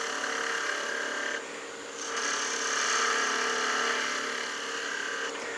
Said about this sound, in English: Long point down, still a nice planing cut.